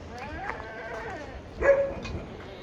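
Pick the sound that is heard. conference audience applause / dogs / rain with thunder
dogs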